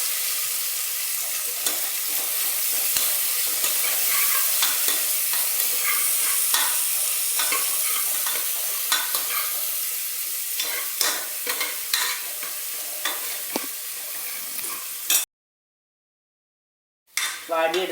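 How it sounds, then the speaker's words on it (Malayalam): Chopped onions sauté in hot oil in a pan, with a steady close sizzle and frequent stirring clinks and scrapes for about fifteen seconds, then a short drop to silence before the sizzling returns. "ഇനി എടുത്തു വെച്ചിരിക്കുന്ന ഉള്ളി ചേർത്ത് കൊടുക്കാം. ഇനി ഇതൊന്ന് ചെറുതായിട്ട് വഴന്ന് വരട്ടെ."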